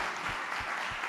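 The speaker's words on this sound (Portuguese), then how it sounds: "Dá um aplauso a Ele." Brief burst of applause from a church congregation, a broad steady wash of clapping with a few low thumps, fairly even throughout and with no voices.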